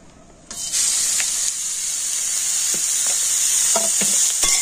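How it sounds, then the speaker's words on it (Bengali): Grated beetroot hits a spoonful of hot white oil in a wok, bursting into a loud, bright hissing sizzle that holds steadily, with a few clinks of stirring near the end and no speech. "এবার আমি গ্রেট করে রাখা বিটটা কিন্তু তেলের উপর দিয়ে দিচ্ছি"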